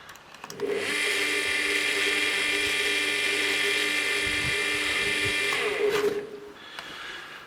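Vodoley BTsPE 0.5-50U electric water pump motor running on the bench during repair, a steady high-pitched whine that starts abruptly, holds for about five seconds, then cuts off and winds down.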